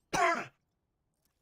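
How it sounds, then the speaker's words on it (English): A single short, raspy sinus cough or throat clear, close and alone, followed by silence and the start of another. "I'm still trying to get rid of this sinus cough"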